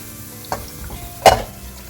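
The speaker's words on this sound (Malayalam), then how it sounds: "ഇനി നമുക്കിതിലേക്ക് നമ്മൾ മാരിനേറ്റ് ചെയ്ത് വെച്ചിരിക്കുന്ന ചിക്കൻ ഇട്ട് കൊടുക്കാം" Two quick bursts of sizzling as marinated chicken hits a hot pan for green pepper chicken curry, the second louder and sharper, with quiet kitchen noise between.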